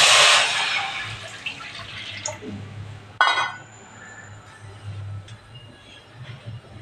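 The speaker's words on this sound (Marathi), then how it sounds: "आता आधी आपण पहिल्यांदा पाणी उकळत ठेवूया" In a home kitchen preparing modak, water splashes loudly into a pot set on to boil, followed by softer clinks and a sharp clatter of the vessel.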